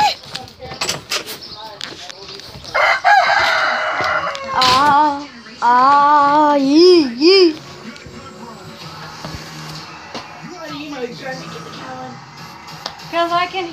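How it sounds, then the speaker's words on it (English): Chickens cluck and a rooster crows loudly up close, with a door banging and scattered noises around the birds. "Chickens."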